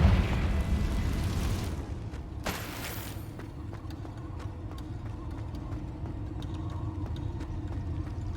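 A Confringo fire curse explodes in Hogwarts Legacy: a loud, rumbling blast at the start, then a sharp burst about two and a half seconds in, set against steady game ambience with faint clicks.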